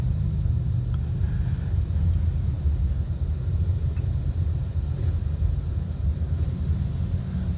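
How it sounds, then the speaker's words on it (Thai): Road traffic stuck in a morning jam on Vibhavadi Road near Don Mueang: a steady, deep engine and tyre rumble that drones on without a break, close and even, with no voices. "รถติดเหมือนเดิมครับผม"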